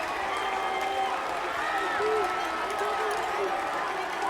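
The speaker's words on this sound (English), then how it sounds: "the crowd did their job tonight, cheering their guys to victory" Crowd at a state championship lacrosse game cheering and applauding after the win, a steady dense wall of clapping and shouting that holds at full level throughout, with whistles and voices rising through the roar.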